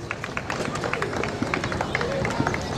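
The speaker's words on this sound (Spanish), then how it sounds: "Un fuerte aplauso para Sisi." Audience applause at a basketball career award ceremony, dense steady clapping from a crowd with background chatter mixed in, moderately loud and sustained throughout.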